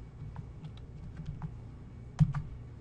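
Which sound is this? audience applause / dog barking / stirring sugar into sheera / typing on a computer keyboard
typing on a computer keyboard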